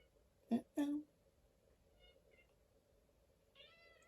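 A cat close by lets out two short meows in quick succession, the second one longer. Quiet indoor stillness follows, with a faint soft sound near the end.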